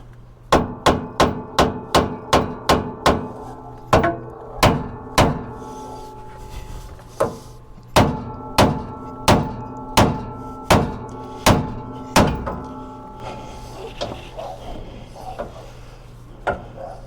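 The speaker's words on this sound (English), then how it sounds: "We'll get our hammer." A hammer strikes metal again and again in a steady, fast rhythm on the steering linkage of a 2017 Ford F350 4x4 during tie rod end replacement, each blow a loud ringing clank, close by and with no talking.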